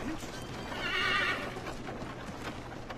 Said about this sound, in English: I whistled my horse.